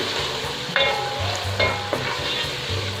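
Coriander and mint leaves are stirred into fried masala in a pan: a steady sizzle with several scraping spoon strokes and soft knocks spaced about half a second to a second apart.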